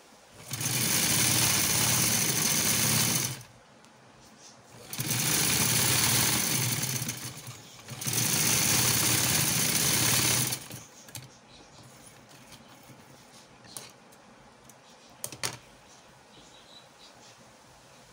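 Sewing machine stitching a trouser hem: three steady runs of fast, even motor whir with needle chatter, each a few seconds long, separated by pauses with faint handling clicks and rustles.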